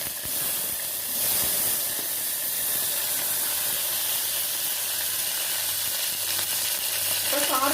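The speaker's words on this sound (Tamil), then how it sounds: "இப்போ சின்ன வெங்காயம் போட்டுக்கலாம்." Small onions drop into hot oil with popped mustard seeds and fennel for Tirupur-style arisi paruppu sadham, giving a loud, steady sizzle and hiss that holds for several seconds with no talk.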